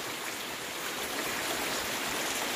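A stream swollen by evening storm rain rushes past in a steady broadband roar, continuous and fairly close, with no voices over it.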